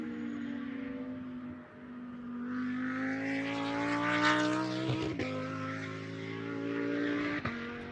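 A GT2 race car howls as it accelerates out of a turn at the Algarve circuit in qualifying, its engine note climbing steadily through the gears, with brief dips at the upshifts.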